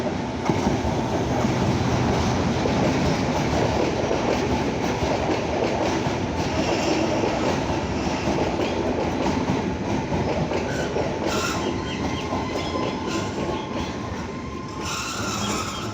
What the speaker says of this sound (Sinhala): මොකද පුතේ කෝච්චිය?